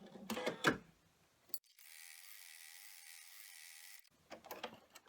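A sewing machine runs a tack-down stitch on fabric for a drawstring bag, with a short mechanical clatter, a steady whirring run of a couple of seconds, then quieter clicks as it stops.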